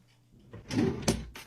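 A bathroom drawer sliding with a rumbling scrape, ending in a knock as it is opened or shut, close and fairly loud.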